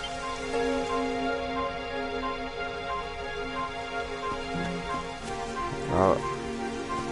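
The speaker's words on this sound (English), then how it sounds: "It would have to go and start raining, wouldn't it?" Steady rain patters on a surface in the video game Dragon Quest XI, a constant hiss with a faint tonal ambience underneath and a brief louder splash near the end.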